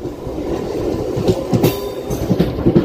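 A MEMU passenger train runs along the rails, a loud, steady rumble with rhythmic clickety-clack wheel beats heard up close from on board.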